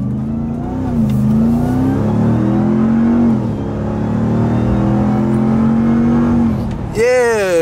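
A 2024 Ram 1500 TRX pickup with a supercharged Hellcat engine accelerates hard, its loud engine note climbing steadily through several gear changes before a sharp final shift; a voice speaks over it near the end.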